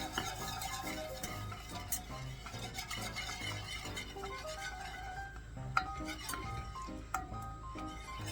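A roux being stirred in a pan, with steady light scraping and faint clinks of the utensil against metal throughout, fairly quiet and close.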